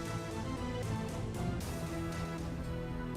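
Main theme music from the 2000s cyberpunk action role-playing game Deus Ex, a dense, steady electronic track with a pulsing low end, playing continuously at moderate volume.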